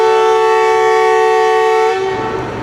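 A passenger train sounds a long, loud, steady horn at a railway station, the sustained tone holding for about two seconds before cutting off into rumbling rail noise.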